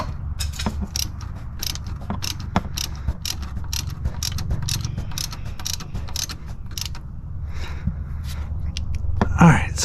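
A ratchet snugs a power steering line fitting on an Acura or Honda, giving rapid, close pawl clicks in short bursts over low background rumble, with occasional soft handling sounds.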